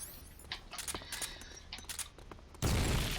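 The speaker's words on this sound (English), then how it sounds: "Sounds like explosions are happening." Gunfire crackles in rapid bursts in Metal Gear Online, with sharp shots scattered over a noisy battlefield backdrop, ending in a sudden loud, dense blast of sound.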